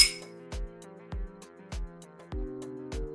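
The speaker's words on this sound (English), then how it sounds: "You get a little glass like this and some whiskey stones." Metal whiskey stones clink against a small glass in a steady series of about six bright, ringing taps, each decaying with a clear resonant tone, close and isolated without talk.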